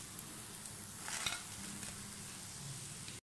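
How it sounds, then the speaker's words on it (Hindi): Egg fingers frying in a kadhai, a faint continuous sizzle of hot oil with a slight swell midway, then cutting off. "बाकी के एग फिंगर्स जो हैं मैंने वो फ्राई होने के लिए कढ़ाई में डाल दिए हैं"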